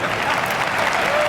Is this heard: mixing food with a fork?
no